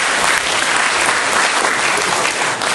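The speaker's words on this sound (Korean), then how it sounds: "우리 일단 박수 부탁 드리겠습니다." An audience at a gathering in a hotel hall in Gumi gives sustained, dense applause, loud and close throughout.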